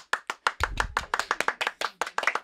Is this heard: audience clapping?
yes